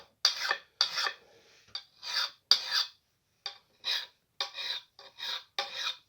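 A hand metal file rasping along an axe blade in a dozen short, separate strokes, each a sharp scraping burst with brief pauses between, close and clear with no voices.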